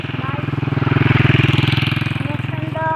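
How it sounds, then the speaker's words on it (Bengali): A motorcycle on a village road in Bangladesh runs close by, its engine giving a steady, loud pulsing drone that swells and then eases slightly over a few seconds. "এখানে বাইক চালাচ্ছে, দেখেন"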